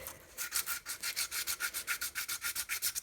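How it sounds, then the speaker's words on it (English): A 600-grit sandpaper block rubbed back and forth on a weedwhacker part, making about fifteen quick, even rasping strokes, close and fairly quiet. "I might be able to go at it quick with a sandpaper block. 600 grit"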